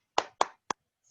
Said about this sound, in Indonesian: Yuk, sekali lagi. Tepuk semangat.